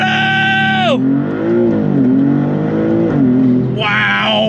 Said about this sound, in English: 2024 Maserati MC20. I have it in Corsa mode, and we're gonna use launch control.